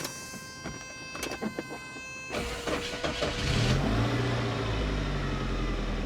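An '88 Saab 900 Turbo that is low on gasoline keeps running, with a low, steady engine rumble swelling in after a few seconds of clicking and clattering. The engine holds a continuous idle to the end.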